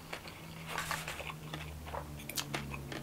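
Crunchy pork pieces being chewed with rice at a Filipino restaurant, giving close, repeated biting and crunching with a low steady hum of the room beneath.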